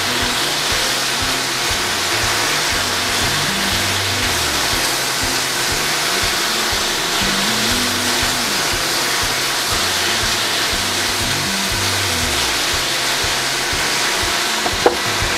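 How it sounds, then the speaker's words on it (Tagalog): Sisig made for a shakshuka crackles and sizzles steadily in hot oil in a pan, a loud, even frying hiss lasting throughout with no talk. "nagmamantika na ang ating sisig"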